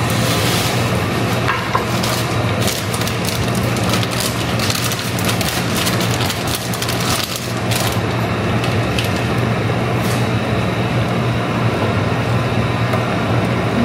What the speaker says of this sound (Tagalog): Haluin natin unti-unti.